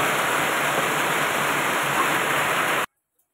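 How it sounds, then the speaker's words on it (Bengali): Dal (lentils) bubbling at a steady boil in a pot, a continuous dense hiss and roil that cuts off abruptly near the end. "এই যে ডাল কিন্তু ফুটে উঠেছে"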